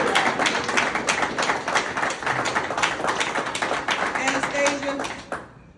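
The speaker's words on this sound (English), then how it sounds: "Give my friend Bill Ryan a round of applause." An audience at a political event with a mayor claps for nearly six seconds, a dense, steady patter of hands that stops abruptly, with some voices underneath.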